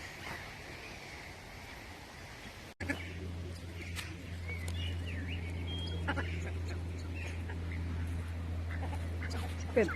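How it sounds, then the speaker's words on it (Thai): Ducks on a duck farm quack intermittently amid outdoor background noise, with a steady low hum after a brief break and people talking nearby. "เป็ด เป็ด เป็ด"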